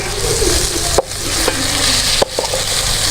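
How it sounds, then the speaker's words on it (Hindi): Semolina roasts in desi ghee for halwa, a loud continuous frying hiss close by, punctuated by a few sharp spoon knocks and scrapes against the pan. "ये जब अपना घी छोड़ देगा और हल्का सा ब्राउन हो जाएगा तब तक इसको हमने भूनना है"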